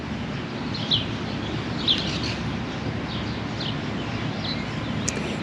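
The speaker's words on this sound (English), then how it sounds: "the birds are chirping." Birds chirp in a garden in spring, short bright calls repeating every second or so, moderately distant, over a steady wash of outdoor background noise.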